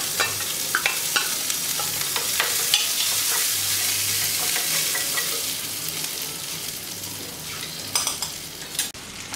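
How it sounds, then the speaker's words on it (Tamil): Chana dal, green chili and curry leaves fry in hot oil while a spoon stirs them, a loud bright crackling sizzle with frequent scraping clicks, close and without talk. "நல்லா செவந்து வர வரைக்கும் கிண்டி விட்டுருங்க"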